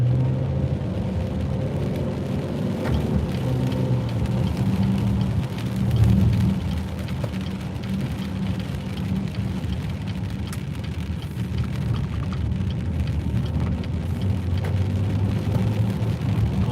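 Steady rain falls outdoors in Flint, Michigan, a dense, continuous wash of drops with no voices, holding an even level throughout.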